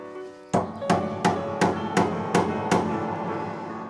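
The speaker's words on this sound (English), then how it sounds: "now that part of the pin goes into a pin block, and so that has to be hammered in" Seven sharp metallic hammer blows at a steady rhythm, driving a tuning pin into a piano pin block, each strike ringing out loudly with a resonant, boomy tail amplified by the soundboard.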